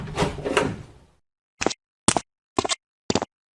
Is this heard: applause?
no